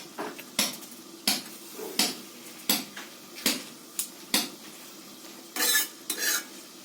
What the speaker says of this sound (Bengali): মশলাটা একটু ভেজে নিচ্ছি।